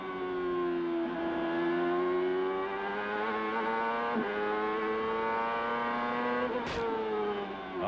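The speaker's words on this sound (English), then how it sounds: "Hear how much they have to work the throttle and why this track is so hard on fuel mileage." A 1997 CART open-wheel race car at Laguna Seca, engine screaming at high pitch as the driver works the throttle uphill, with rising and dipping revs, brief lifts and a sharp click, loud and continuous, no talk.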